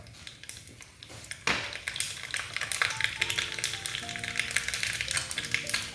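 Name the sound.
mustard seeds frying in oil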